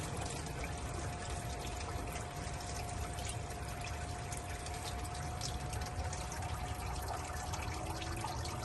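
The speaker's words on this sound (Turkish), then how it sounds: "Onun için çok hafif şekilde biraz su verelim." A light stream of water trickles and pours steadily into a micron gold separating machine, a faint continuous wash with a thin steady hum beneath it and no talking.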